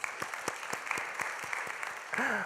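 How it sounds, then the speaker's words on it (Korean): A congregation at a Sunday young adults' church service gives scattered, sparse applause, with individual claps standing out clearly before a brief voice near the end. "우리 자막팀에게 격려와 사랑의 박수"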